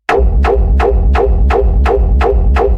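A hard techno kick drum run through iZotope Trash 1 and Trash 2 distortion, eight loud, evenly spaced hits over a dense, continuous rumbling low-end drone that fills the gaps between beats.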